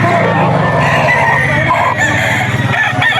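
A gamecock stag about 15 months old crows loudly at a busy Bocaue auction market, one long sustained call running nearly the whole stretch over dense crowd noise.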